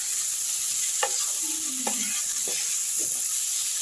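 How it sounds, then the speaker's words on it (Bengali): Potatoes seasoned with salt and turmeric stirred in a frying pan, a steady sizzle throughout with a few clear scrapes and clinks of the spoon against the pan, nearby and moderately loud, no talking. "একটু নুন আর একটু হলুদ দিয়ে আমি আলুটা আরেকবার নেড়ে নিচ্ছি"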